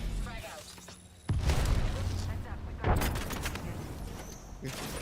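A grenade blows up in an online battle-royale shooter with a sudden heavy boom, followed by a second blast and rumbling gunfire, loud and close, while players talk over the action.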